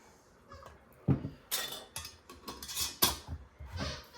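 Metal and glass clinks and clatters of a canning lid being picked up and set on a jar of rhubarb in a home kitchen, several sharp close taps spread over a few seconds.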